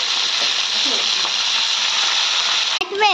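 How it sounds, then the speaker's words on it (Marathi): Steady, loud sizzling of garlic and chillies frying in hot oil throughout, with a brief clatter and a faint voice near the end. "थोडंसं ह्यांना भाजू द्या आणि त्याच्यानंतर मिरच्या टाका"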